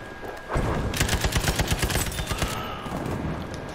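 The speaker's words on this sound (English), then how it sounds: "Next up is the Type 11 LMG." Rapid automatic fire from a Type 11 LMG light machine gun in Battlefield V, a loud sustained burst of close shots running roughly two seconds before tapering into lingering battle noise.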